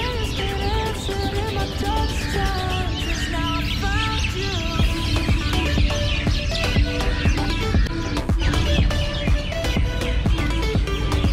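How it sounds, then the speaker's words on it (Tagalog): Many birds chirp and call at once in Noor Garden on Al Noor Island, Sharjah, UAE, a dense, loud chorus of overlapping tweets that fills the air without a break. "sa sobrang dami ng mga ibon eh"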